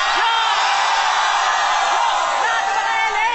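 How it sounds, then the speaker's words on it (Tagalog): Battle rap audience shouting in unison at a live Filipino battle rap event, a loud, dense crowd roar of whoops and yells that stays steady throughout. "Sabay-sabay natin sigawan si Shehi"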